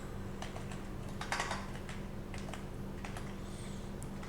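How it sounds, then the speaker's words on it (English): Someone types an address on a computer keyboard while entering company details into business software: irregular, fairly soft keystroke clicks in short clusters, with no talking. "So let's type it directly here."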